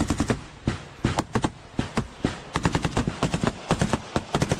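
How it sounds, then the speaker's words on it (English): MG3 machine gun firing in combat: rapid bursts of sharp gunshots, some single, some in quick strings, repeating throughout at moderate distance. "It's actually an MG3 of all guns."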